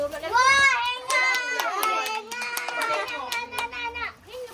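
Children clap their hands in quick, uneven bursts amid excited kids' voices and chatter during a lively family gathering, the claps sharp and close throughout.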